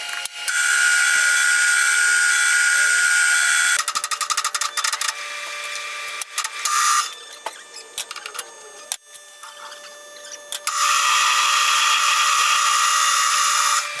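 A drill boring holes in steel square tube, with long bursts of high, grinding whine, stop-start cutting and rattling in the middle, then a steady loud spell, close up with no talk.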